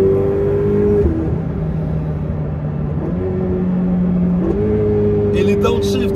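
Ferrari 488 Pista turbocharged engine revving with sharp downshifts, a steady loud engine drone rising and dropping in pitch several times, heard from inside the car.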